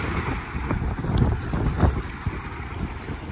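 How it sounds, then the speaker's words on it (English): The bulk carrier Clipper Tarpon passes at Morgan's Point near Houston, a low ship rumble and water wash buried under heavy wind buffeting the microphone, continuous and loud, with no talking. "The ship is just passing by us, so it'll probably be another minute before the waves get here."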